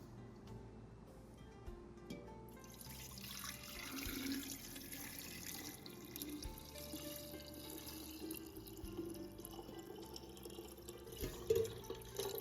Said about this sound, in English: Pour the cooled liquid into the jar to fully submerge the eggs.